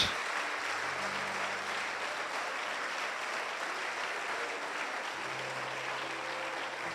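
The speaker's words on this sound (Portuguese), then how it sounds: "Vamos aplaudir o nosso" Sustained applause from a church congregation clapping in praise of God, a dense steady wash of hands with brief low tones underneath, moderately distant and unbroken for the whole stretch.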